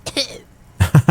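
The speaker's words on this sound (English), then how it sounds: "He only gets 2 kips out before he coughs" A character's cough in the Disco Elysium video game, a few harsh bursts close up after a brief vocal sound and a quiet gap.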